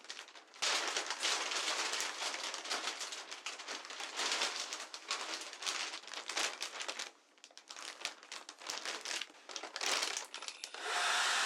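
A vacuum sucks air out of a plastic compression storage bag holding two washed long padded coats, a loud hissing whoosh that starts and stops in bursts, with crinkling plastic between and a final stretch of steady suction.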